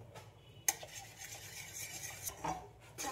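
A spoon scrapes and clinks against a pot as besan is stirred into boiling water, soft rubbing strokes with one sharp metallic tap, quiet and close, no voices.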